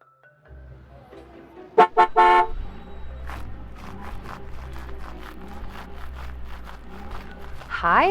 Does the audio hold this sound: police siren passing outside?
no